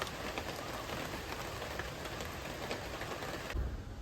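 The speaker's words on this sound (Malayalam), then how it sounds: "ഇപ്പൊ മഴ ആസ്വദിച്ചുകൊണ്ട് ഇവിടെ ഇരിക്കുകയാണ്." A light drizzle with wind falls on wet gravel, making a soft, even hiss of fine drops that is faint and steady throughout, with no voices.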